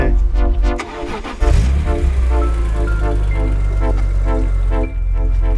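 BMW M5 (E34) or M3 (E46) engine idles with a raspy, throaty tone, swelling into a brief rev before settling back into a steady, close, loud run.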